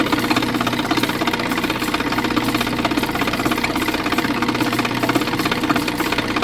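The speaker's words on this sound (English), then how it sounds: "I kind of grind off all the sharp edges at this point" A powered grinder knocks the sharp edges off a stone to shape it into a sparkling button, a steady, unbroken mechanical drone that holds at an even loudness from start to finish.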